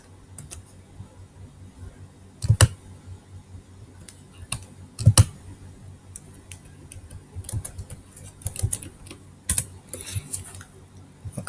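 Someone types a script on a computer keyboard, producing close, quiet, irregular key clicks with a few louder, sharper presses standing out, and no voices.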